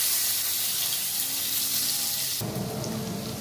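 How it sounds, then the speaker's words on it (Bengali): Garlic sizzles steadily in hot white oil for egg chow mein, and the sizzle grows suddenly louder partway through. "সাদা তেলটা দেখুন গরম হয়ে গেছে, এর মধ্যে রসুনগুলো দিয়ে ভেজে নেওয়া হবে"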